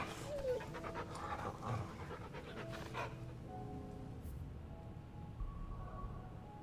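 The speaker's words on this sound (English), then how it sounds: "What a fine hound." A hound in the Final Fantasy XVI video game pants in quick, rhythmic breaths, close and soft, over a quiet game ambience with a few faint tonal effects.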